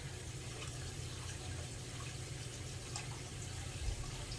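Water from a rinsed coconut milk can pours into a pot of Belizean conch soup, a steady close splashing wash that runs without pause and with no talking.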